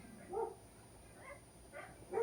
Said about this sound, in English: I gotta make sure my dogs are good